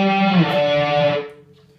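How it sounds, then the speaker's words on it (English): A distorted electric guitar rings out a brief octave-chord lead phrase from a riff, loud and sustained before fading quickly. "There's a little lead thing that goes on, and it's all octave chords"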